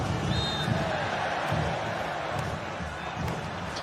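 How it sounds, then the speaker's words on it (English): Roaring stadium crowd at the MLS Cup Final between Los Angeles FC and Philadelphia Union, a sustained wash of cheering and chanting with a commentator talking over it. "Well, this crowd not giving up. The noise is still cascading down."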